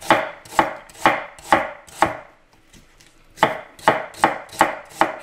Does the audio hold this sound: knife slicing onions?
yes